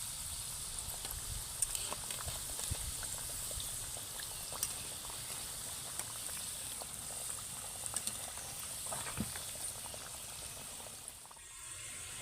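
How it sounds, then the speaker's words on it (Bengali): Palm gokul pitha sizzle in hot oil in a steady, even frying hiss with a few soft crackles, close and continuous throughout with no talking. "উল্টিয়ে পাল্টিয়ে ভালো করে পিঠেগুলো ভেজে নেব"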